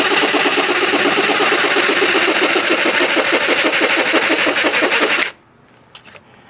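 A jigsaw cuts material for a rear window MOLLE panel on a GX470 in a fast, steady buzzing rattle for about five seconds, then stops, leaving near silence with a brief faint clack.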